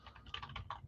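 Quick bursts of keystrokes on a computer keyboard, about eight clustered clicks in under a second, close and fairly quiet, with no talking over them.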